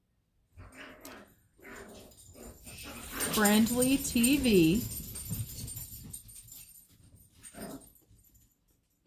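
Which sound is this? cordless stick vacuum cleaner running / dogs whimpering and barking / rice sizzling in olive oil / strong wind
dogs whimpering and barking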